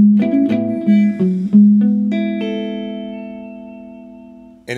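Clean electric guitar tone played through a Dazatronyx Optical Tremolo pedal with the effect still off: a few picked notes, then a chord struck and left ringing, slowly fading alone.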